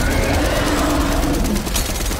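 Sustained rapid automatic gunfire from several weapons firing at a giant dinosaur in Fortnite, a dense continuous roar of shots with no pause and no talk.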